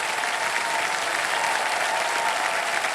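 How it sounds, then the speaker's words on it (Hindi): Loud, sustained applause from a studio audience on a television quiz show, a steady wash of many hands clapping with no let-up. "जोरदार तालियां बज जाएं।"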